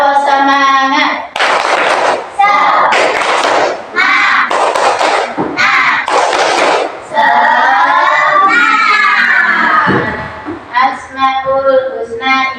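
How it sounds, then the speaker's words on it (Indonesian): A class of children in an Indonesian Islamic religious-education lesson perform a spirit clap chant, their voices chanting in unison while bursts of sharp, rhythmic hand claps come in quick groups, loud and close, with a teacher's voice between. "Tepuk semangat."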